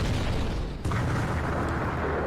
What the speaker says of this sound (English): The Nautilus shudders as its guns fire relentlessly, showering the city below with shells.